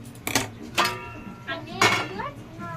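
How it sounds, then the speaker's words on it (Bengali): A metal wok (kadai) is set down on a gas stove in a home kitchen before chicken kebabs are fried, making several sharp metallic clanks and knocks with a voice speaking in between. "গ্যাসটা বসিয়ে দিই, গ্যাসের কড়াই বসিয়ে দিই"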